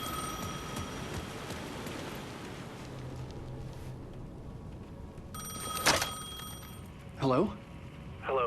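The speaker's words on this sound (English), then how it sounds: "The phone was ringing again." Telephone ringing in the video game Alan Wake 2, with two or three short bursts of bright ringing over a steady ambient game background, moderately loud, with voices briefly heard.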